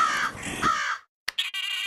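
Cartoon crows cawing at night, a harsh rasping caw followed after a short silence by a second, brighter caw, loud and close.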